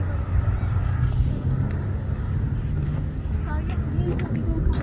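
Cars passing on a road during an outdoor jog, a steady low traffic rumble running throughout under a child's and adult's talking.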